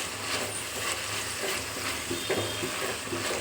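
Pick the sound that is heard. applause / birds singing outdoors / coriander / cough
coriander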